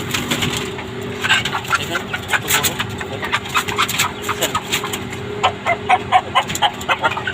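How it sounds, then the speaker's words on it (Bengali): Malaysian roosters and chickens cluck and squawk in a busy farm flock close by, with scattered sharp calls over a steady background hum. "এটা মালয়েশিয়ান মোরগ সব মালয়েশিয়ান মোরগগুলো কত বড় বড় দেখেন"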